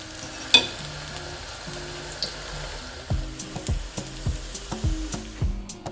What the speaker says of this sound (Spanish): vamos poniendo nuestras tortitas a freír